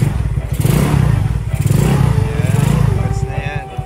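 Honda Mio Sporty scooter engine revs after installing a 28mm Nibbi carburetor, throttle cable and grip, a close, loud buzzing that rises and falls in quick bursts, with someone talking over it.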